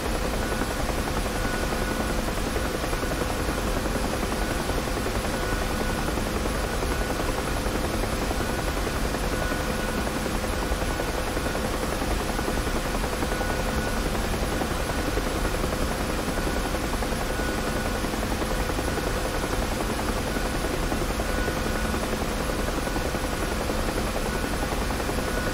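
Huey helicopter in the DCS flight simulator, flying a pass over the Batumi and Kobuleti area: a steady, loud rotor drone and turbine whine that holds unbroken with no talk.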